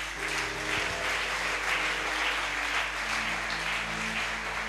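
Church congregation applauding and acclaiming the Lord, a steady dense wash of clapping that carries through the whole stretch, with an organ or keyboard chord sustained underneath.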